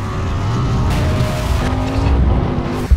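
A race car drives close by with a loud, sustained engine roar, its pitch sliding as it shifts, with faint tire noise underneath.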